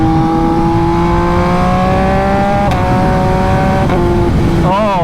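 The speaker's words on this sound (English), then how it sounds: "Right now I'm in 6th gear, and all I hear is this bike and nothing else." An MV Agusta Brutale 800 RC motorcycle engine holds a loud, steady drone in sixth gear, its pitch creeping slowly upward before a brief shift-like dip and recovery near the end, heard close with rushing wind.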